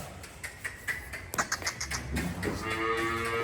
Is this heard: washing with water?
no